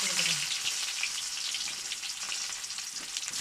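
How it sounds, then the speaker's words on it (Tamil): Mustard seeds crackle and splutter in hot oil in a pan, a dense, close sizzling patter that keeps going steadily for a few seconds. "சட்டி வச்சு எண்ணெய் ஊற்றி கடுகு போட்டாச்சு கடுகு பொரிஞ்சிருச்சு"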